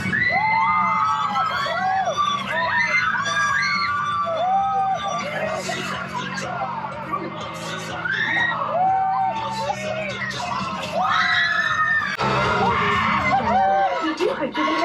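Riders shriek on a Halloween dark ride at Disney California Adventure, with repeated high rising-and-falling screams from several voices overlapping over a low mechanical hum, loud and close for the whole stretch.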